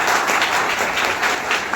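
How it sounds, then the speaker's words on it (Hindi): Students in a coaching institute hall applaud loudly, a dense, steady wash of many hands clapping together that holds at an even level throughout without pause. "और एक बार जोरदार तालियां हो जाए"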